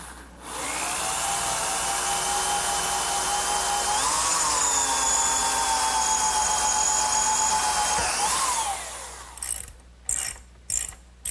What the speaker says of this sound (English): Now I'll just drill the holes using a 1/4 inch drill bit.